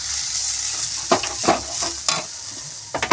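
Vermicelli with cashews and raisins frying in ghee, stirred with several distinct scraping strokes over a steady close sizzle.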